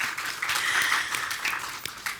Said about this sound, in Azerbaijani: Alqışlayırıq o bəyləri.